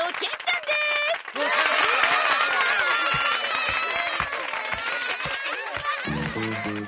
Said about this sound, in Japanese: では拍手